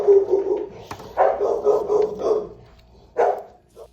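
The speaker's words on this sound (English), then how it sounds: "Now we got a little interrupted there by Harvey barking" A dog barks in several sharp bursts, a cluster of quick yips followed by a pause and one more bark, fairly close and loud.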